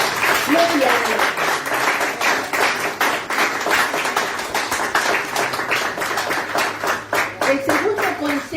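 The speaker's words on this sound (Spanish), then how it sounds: "Dale un fuerte aplauso." A church congregation at a pastor's sermon claps in a dense, fairly loud, sustained burst, with a voice speaking over it at the start and end.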